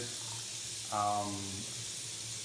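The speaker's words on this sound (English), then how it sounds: "Let the water get as hot as it can get coming out of the faucet" Hot water running from a kitchen faucet as a steady, hissing rush, fairly soft and close, with a brief tonal swell midway through.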